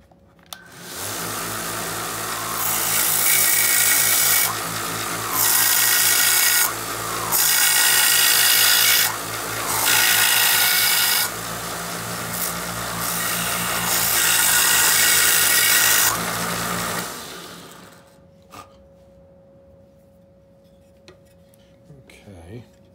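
A belt sander grinds a saxophone mouthpiece shank in several loud, harsh pulses of abrasive rasping over the motor's steady whine, then spins down and leaves a quiet hum.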